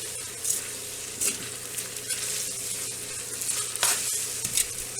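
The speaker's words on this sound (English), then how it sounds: "Give that a good stir." Spaghetti aglio e olio gets stirred in a hot pot, a continuous sizzle and fry under scraping, clattering stir strokes, close and fairly loud.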